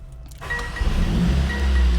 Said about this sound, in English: AMG performance, which means if I start the car,